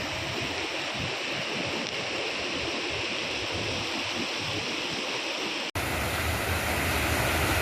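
Floodwater rushes fast and loud after heavy rain in Ballari, a steady broadband roar of churning water close to the microphone, continuing unbroken apart from a brief dropout near the end.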